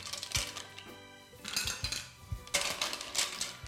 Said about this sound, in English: And now we're just going to spoon all those lovely mussels into your dish.